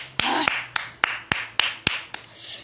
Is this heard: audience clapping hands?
yes